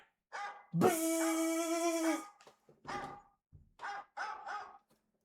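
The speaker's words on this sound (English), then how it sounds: "My dog won't shut up." A dog barks close by indoors, one long drawn-out howl-like bark followed by several short sharp barks in uneven bursts with pauses between.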